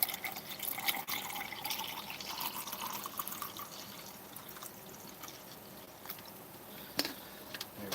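Water poured from a bottle into a cup, a steady soft trickling and splashing that continues for several seconds at low level, close by.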